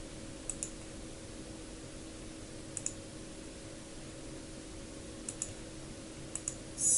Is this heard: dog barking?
no